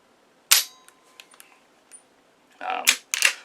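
A Marlin 1894 SBL rifle fires a single sharp, close shot, followed by a few faint metallic clicks and then a louder cluster of clattering impacts near the end.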